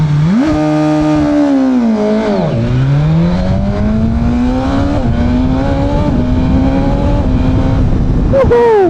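A BMW S1000RR motorcycle fires off a launch control start, its engine roaring loud and close as the revs climb and fall through quick gear changes.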